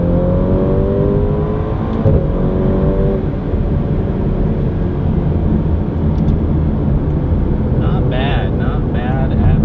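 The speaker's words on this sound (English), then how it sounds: "Let's get that exhaust noise." A Ferrari's exhaust roars as the engine revs and accelerates, a loud, close, sustained rumble with rising tones heard from inside the car.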